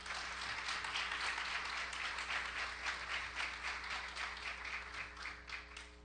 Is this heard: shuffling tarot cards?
no